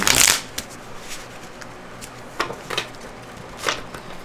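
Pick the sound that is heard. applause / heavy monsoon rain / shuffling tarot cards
shuffling tarot cards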